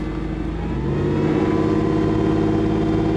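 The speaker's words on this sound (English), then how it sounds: "Give it some revs." The engine of a 1994 Toyota 4Runner is revved nearby, climbing from a steady idle into a louder, higher sustained drone that holds for a few seconds, with no talking.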